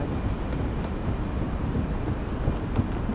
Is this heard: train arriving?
yes